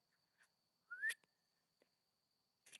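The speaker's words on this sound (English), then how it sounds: "Something just whistled at me." A single high-pitched whistle outdoors on a foggy night, rising in pitch for about a quarter second, loud against a quiet background with a faint steady tone and a few soft clicks before and after.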